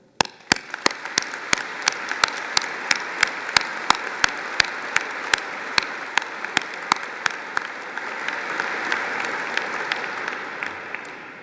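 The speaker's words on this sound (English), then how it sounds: "may we please start by applauding all our graduands" Audience applauding graduands inside a cathedral during a graduation ceremony: sustained, dense clapping from a large crowd with sharp camera-flash-like clicks punctuating it, steady throughout and easing slightly near the end.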